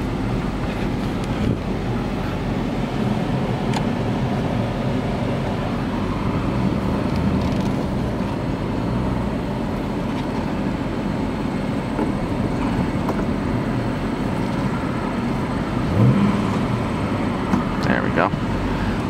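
A black 2011 Dodge Ram 2500 SLT regular cab with a 5.7L HEMI rolls along in four-wheel low, a steady low drone of engine and road noise with wind buffeting throughout.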